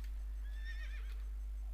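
A standard horse mount in a video game gives a single high, quavering whinny lasting under a second, clear and moderately close over a low steady hum, with no talking.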